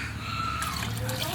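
Water is poured into a pan holding shrimp heads and shells, giving a steady close trickle and splash with faint background noise.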